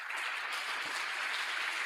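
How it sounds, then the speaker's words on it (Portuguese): A church congregation applauds in praise of the Lord, producing a dense, steady patter of many hands clapping together throughout. "Dá por mim aí, por favor, esse aplauso de louvor ao Senhor."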